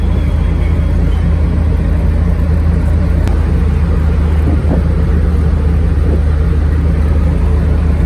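Private car traffic on a clean highway in Cairo, Egypt: a loud, continuous roar of engines and tyres close by, filling the whole stretch with no breaks.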